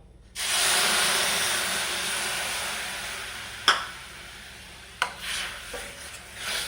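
Vinegar poured into hot roasted spice powders in a pan for Kerala mango pickle bursts into a loud, steady sizzle and hiss that slowly eases, broken by a few sharp clinks and stirring scrapes near the end.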